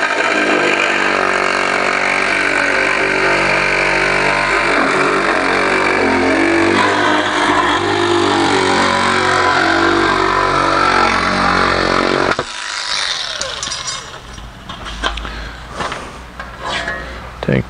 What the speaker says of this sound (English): I'll get my cordless shear and we'll cut that little excess off here.